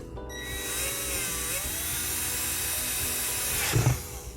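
A power drill whirs steadily at high pitch for several seconds, then winds down with a brief clunk near the end.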